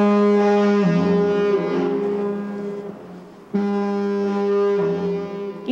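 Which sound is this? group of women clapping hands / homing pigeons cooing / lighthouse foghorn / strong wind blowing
lighthouse foghorn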